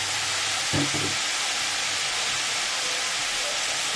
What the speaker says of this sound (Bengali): এটা ভালো করে কষিয়ে তারপরে তোমাদেরকে দেখাচ্ছি।